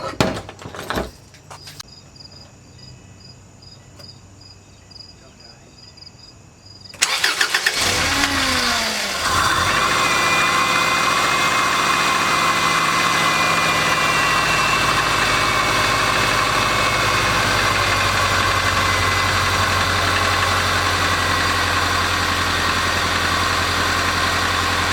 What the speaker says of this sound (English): let's start up the car and hope it doesn't catch on fire